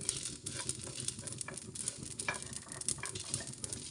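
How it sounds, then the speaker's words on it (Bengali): Spices for garlic pickle fry in a pan over medium heat on the stove, giving a steady close sizzle with soft crackles and stirring scrapes throughout, no voices. "চুলার জাল মিডিয়ামে রেখে 3 মিনিট ভেজে নিয়েছি"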